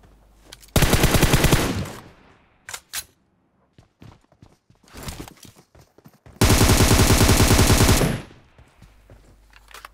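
Two long, loud bursts of automatic gunfire from the mobile battle royale PUBG Mobile, one early and one late, with scattered single shots and footsteps in the quieter stretch between them.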